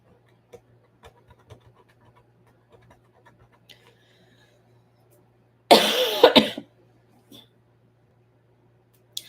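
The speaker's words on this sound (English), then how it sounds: "I'm just tired of coughing." A single burst of hoarse coughing breaks out near the middle of an otherwise quiet indoor stretch, with only faint small rustles and taps around it.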